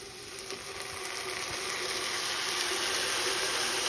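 Red onions and sofrito sizzle steadily in a pan with a splash of wine, a close, dense hiss of frying that swells slightly as the liquid cooks down.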